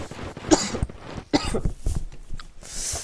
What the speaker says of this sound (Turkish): nefesimin sesi size gelmesin diye öbür tarafa öksürdüm de